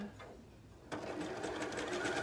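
A sewing machine stitches the short side of a folded fabric leg band for a child's size 4 garment, starting abruptly after a quiet moment and then running in a steady, close, continuous whir.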